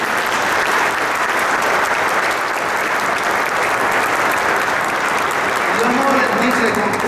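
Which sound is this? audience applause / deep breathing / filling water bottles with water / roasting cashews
audience applause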